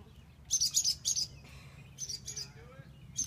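A distressed mother bird chirps in rapid high bursts of several sharp tweets, fairly close, with quiet gaps between the clusters and faint background noise.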